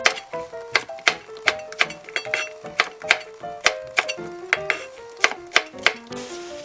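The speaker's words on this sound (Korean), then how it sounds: "한 2cm 간격으로 썰어주세요." A knife chops cheongyang chili peppers on a cutting board in crisp, evenly spaced strokes, about two per second, close and clear with no talking.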